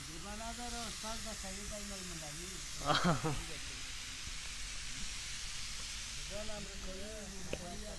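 A pressure cooker lid releases steam with a constant faint hiss and a short louder spurt partway through, while a person talks over it throughout.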